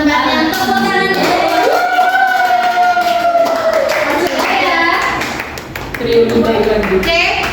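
Students clap in a university teaching-practice classroom after a group presentation, a steady patter of applause mixed with children's and adults' voices talking over it.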